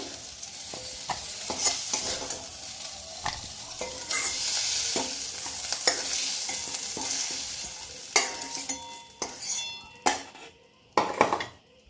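Prawns fry and sizzle in oil in a pan while a metal spatula stirs and clinks against it, steady crackling at first, then sharper scrapes and knocks as they are lifted out, with no voices.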